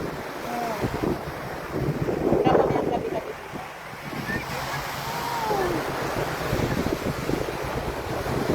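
Sea waves washing onto a beach in Dubai, a steady broadband wash with wind noise buffeting the microphone throughout, while people talk over it.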